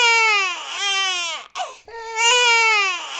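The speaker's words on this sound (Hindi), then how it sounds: "तभी अंदर से बच्चे के रोने की आवाज आती है।" A baby cries in two long, wailing bursts with a short gasping break between them, close and loud.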